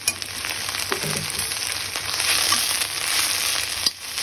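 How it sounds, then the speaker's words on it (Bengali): Garlic and chillies sizzle and crackle in oil in a kadai, a steady close-up frying hiss with a few brief stirring scrapes and no talk. "রসুন, মরিচ ভেজেছিলাম, ওই কড়াইতেই আমি এগুলো ভেজে নিচ্ছি"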